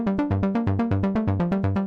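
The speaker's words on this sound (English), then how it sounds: "Here we have a basic pluck sound" A basic synthesizer pluck patch plays a steady repeating arpeggio, bright, short notes in an even rhythm, clean and upfront with no voices.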